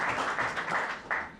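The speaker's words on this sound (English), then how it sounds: "give them a big round of applause" Scattered applause from a small audience honoring radio station volunteers at a WYXR live session, a brief burst of hand claps that swells again near the end without speech over it.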